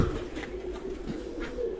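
Pet loft pigeons in Sargodha give repeated soft, rolling coos at close range, a continuous low burbling chorus with no voices over it.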